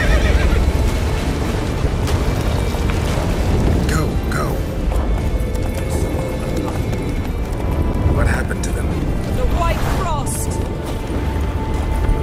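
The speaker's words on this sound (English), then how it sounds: "Grab the horse." A horse in The Witcher 3 whinnies a few times amid loud, dense game action, with rumbling noise and voices talking over it throughout.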